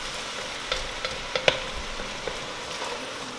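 Meat sauce for lasagna being stirred in a pan, with a soft steady sizzle and several sharp scraping clicks of the spoon against the pan, no talking.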